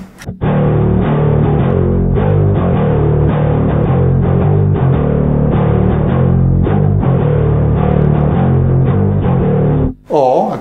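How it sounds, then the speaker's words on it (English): Bass notes from a one-string pickup on a Fender Jaguar play steadily and loudly for about ten seconds with no voices, ending in a brief pause and a short sliding tone. "So therefore, I can play just the bass sound."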